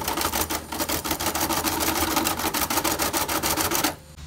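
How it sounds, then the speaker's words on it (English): Keys on a Perkins Brailler are pressed over and over in a rapid, even series of close mechanical clacks, loud and continuous, stopping abruptly near the end. "I'm going to press the keys a bunch of times just to work everything in."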